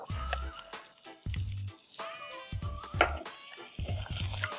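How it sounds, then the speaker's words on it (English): Finely chopped ginger sizzles in hot butter with a crackling frying hiss, interrupted by several low thumps and clatters from stirring, all close and moderately quiet. "once the butter is hot, I'm going to add the finely chopped ginger"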